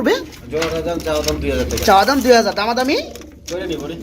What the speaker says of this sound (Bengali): এগুলো ড্যানিশ কবুতর কয়